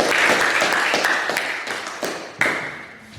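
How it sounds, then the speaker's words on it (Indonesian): A classroom full of students claps for a student group at the end of its presentation, a dense burst of hand claps with a few louder strikes that fades toward the end. "Tepuk tangan untuk kelompok 3"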